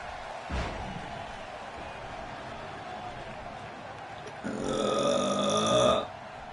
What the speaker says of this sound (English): I just burped like Dean Ambrose entrance music